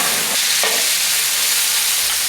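A thick steak searing in a hot pan, a loud close hiss of fat with a couple of quick shifts as the meat is flipped.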